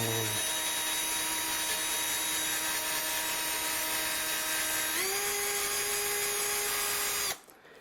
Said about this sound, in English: So I'm just gonna drill through it and remove that